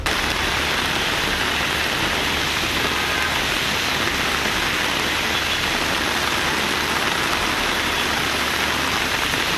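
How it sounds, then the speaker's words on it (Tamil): Heavy night rain falls across the suburbs of Chennai, around Alandur airport, Pallavaram, Chromepet and Tambaram, a dense, steady hiss of downpour on surfaces that stays loud and unbroken throughout with no voices. "இரவில் ஆலந்தூர் விமான நிலையம், பல்லாவரம், குரோம்பேட்டை, தாம்பரம், சேலையூர், வண்டலூர், முடிச்சூர் மற்றும் அதன் சுற்றுவட்டார பகுதிகளில் பலத்த மழை பெய்தது."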